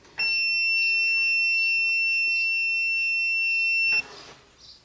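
A steady, high-pitched multimeter continuity beep holds for about four seconds while testing a warming drawer's thermal cutoff, then cuts off, leaving quiet room noise.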